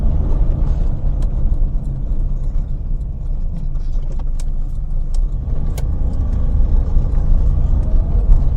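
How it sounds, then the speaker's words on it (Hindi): A new car being driven through a city, engine rumbling steadily and close inside the cabin, with a few faint clicks and rattles over the continuous road noise. "रेस बहुत देते हैं, रेस बहुत ज्यादा है।"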